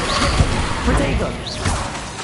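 A Protego shield spell cast in the Hogwarts Legacy video game gives a brief magical swoosh with a shimmering rise, set against a busy, loud battle soundscape.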